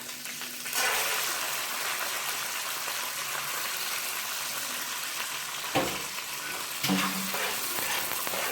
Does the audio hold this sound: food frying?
yes